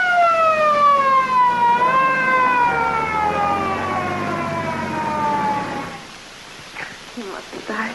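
An ambulance siren wails loudly in a 1940s radio mystery drama, its rising and falling tone sweeping steadily for about six seconds before cutting off into brief muffled noises.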